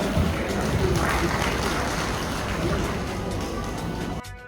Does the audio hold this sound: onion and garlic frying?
no